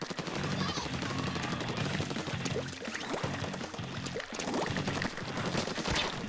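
Splatoon match with bombs thrown around amid constant rapid splatting fire and liquid bursts, dense and busy throughout, with game effects layered over each other.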